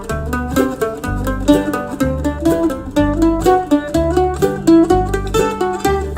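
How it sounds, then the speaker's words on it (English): Mandolin plays a scale pattern in G: a quick, even run of plucked notes with a steady rhythm and clear, bright attacks, close and alone. "Scale pattern in G."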